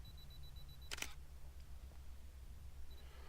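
A single crisp click of an SLR camera shutter firing during a landscape shot, quiet and close against faint background hum, with a softer mechanical click near the end and no talking.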